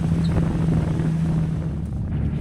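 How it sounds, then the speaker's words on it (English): Heavy wind buffets and rumbles across the microphone in a continuous low roar while riding on a Comanche on a RZR trail, with no voices. "It's a little windy up here."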